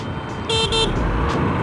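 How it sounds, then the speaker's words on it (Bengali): A horn on a brand-new Honda Livo 110 motorcycle gives one short toot, a brief double-pulsed electric beep heard up close over steady road and engine noise while riding. "হর্নের সাউন্ডটা কিন্তু আমার কাছে মোটেও ভালো লাগেনি"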